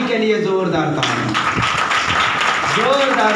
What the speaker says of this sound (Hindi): आपके हुजूरी के लिए जोरदार ताली